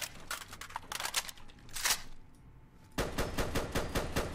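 A FAMAS rifle in Fallout 4 fires in rapid bursts of sharp, close shots. A brief pause with a whooshing sound follows, then a steady stream of fast automatic fire.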